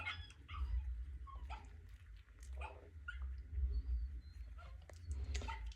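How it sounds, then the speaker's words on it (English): Recorded puppy barking played for a cavapoo litter's sound desensitization: soft, high yips and whimpering barks repeat in scattered bursts over a low background hum, fairly faint. "And this puppy's barking."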